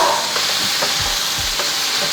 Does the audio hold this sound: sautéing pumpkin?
yes